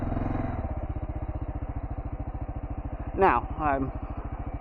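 A KLR650 dual-sport motorcycle on Shinko 244 tires chugs at low revs, a fast even thumping pulse that stays close and steady, while someone speaks briefly over it near the end.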